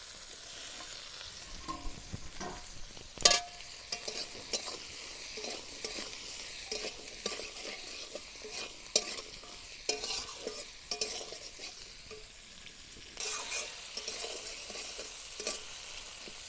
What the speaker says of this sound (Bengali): পেঁয়াজটা ভাজতে থাক, ওর মধ্যে দিয়ে দেবো আমি একটা আলু